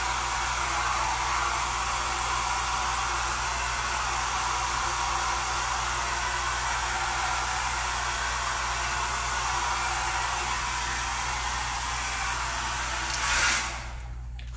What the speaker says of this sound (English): nobody wants to listen to my hair dryer going